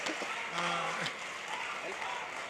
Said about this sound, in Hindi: तालियां जोरदार आनी चाहिए।